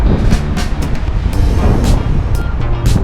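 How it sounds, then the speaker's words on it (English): A train rolls past a cyclist's roadside stop on a Land's End to John o'Groats ride, a loud, steady rumble and rush of wagons lasting throughout with no talk. "There's a train going past."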